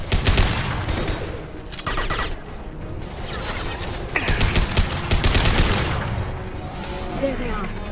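Gunfire in the sci-fi game Mass Effect 2, rapid bursts of automatic weapon fire and impacts close by, with game voices mixed into the combat noise.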